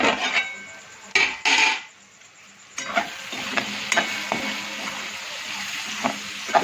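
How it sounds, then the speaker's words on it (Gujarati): Onions and tomatoes fry with spices in a pan for a yogurt-onion curry, a soft steady sizzle broken by sharp clanks of a spoon against the pan and a run of stirring scrapes. "મિત્રો ડુંગળી ટામેટાં બધું સરસ શેકાઈ જાય મસાલાની જોડે"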